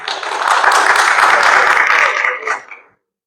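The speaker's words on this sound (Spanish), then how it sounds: "a quien pido un fuerte aplauso" An audience at an author presentation in Medellín breaks into a short burst of applause, dense clapping lasting about two and a half seconds before tapering off into silence.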